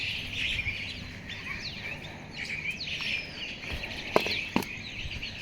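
Assorted chirps and calls of mynas and crows outdoors, scattered and moderately faint, with a couple of sharp clicks near the end.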